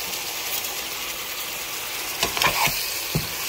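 Diced chicken breast pieces sizzle and fry steadily while browning in a pan, a close, continuous crackle with a few brief stirring knocks near the end and no talking.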